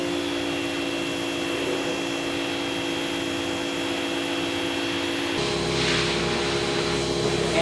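Home Armor Power Clean Wand spraying with a white 40-degree tip, a steady loud motor drone and hiss of water spray throughout, with the spray noise changing character near the end.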